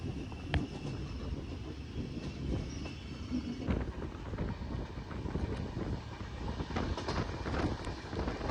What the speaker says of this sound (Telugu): మన ట్రైన్ అయితే హాఫ్ సర్కిల్ కొడుతుంది, ఫుల్ వ్యూ కనిపిస్తుంది ట్రైన్ది